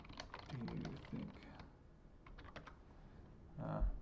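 Rapid clusters of computer keyboard keystrokes, close and crisp, come in bursts separated by pauses, with a few duller thumps mixed in.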